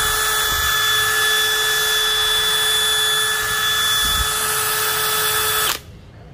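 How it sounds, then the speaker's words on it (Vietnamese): A DeWalt DCD996 hammer drill set to hammer mode and its fastest third speed runs in a loud, steady, high whine close to the microphone, then cuts off abruptly just before the end. "Đây mình chỉnh ở tốc độ búa và cấp 3 là tốc độ nhanh nhất của nó."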